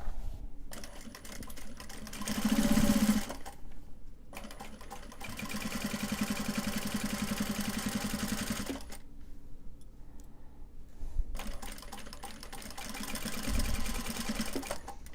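A sewing machine stitches fabric for a Japanese-fabric cell phone purse in three long bursts of fast, even mechanical whirring, close and clear, separated by brief pauses.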